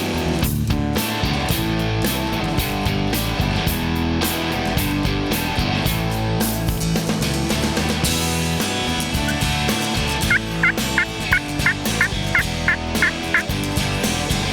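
Wild turkeys gobble during a spring turkey hunt in Georgia. A quick run of about eight sharp, repeated calls rises late over steady outdoor background noise, with no talking.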